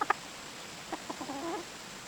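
Chickens, kept at a forest house under restoration, give a few soft clucks and short calls, with two sharp sounds at the start; the calls are fairly faint against a steady background hiss.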